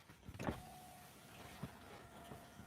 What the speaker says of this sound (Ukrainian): І шиби закривається.